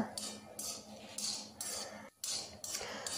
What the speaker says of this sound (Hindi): मूंगफली को इस तरह लगातार चलाते रहना है ताकि मूंगफली जले ना और अच्छे से भून जाए